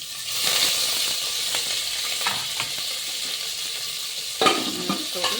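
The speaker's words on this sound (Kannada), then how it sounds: "ಚೆನ್ನಾಗಿ ಫ್ರೈ ಮಾಡ್ಕೊಂಡ್ಬಿಡೋದು ಅದನ್ನ ಒಗ್ಗರಣೆನ" Onion and curry leaves frying in hot oil for a tempering after mustard seeds have spluttered, a steady loud sizzle with occasional stirring clinks and scrapes of a spoon in the pan.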